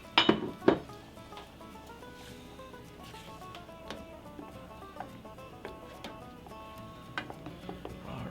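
A spoon mixes olive oil into salsa in a pot for pupusas, with a few loud clanks against the metal at the start, then softer intermittent clinks and scrapes.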